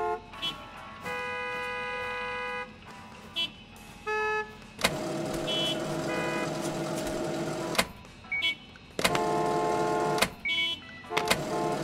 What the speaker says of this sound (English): Honking is quite annoying